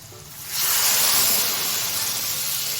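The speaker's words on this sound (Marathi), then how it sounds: "फोडणी आता छान झालेली आहे त्यामध्ये आता आपण डाळ ओतून घेऊया" Dal poured into hot tempering for South Indian rasam bursts into a loud, close sizzle about half a second in, then keeps hissing steadily.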